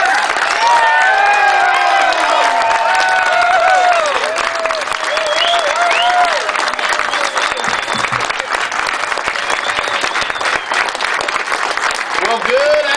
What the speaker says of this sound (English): give him a round of applause to let him know he will be our next governor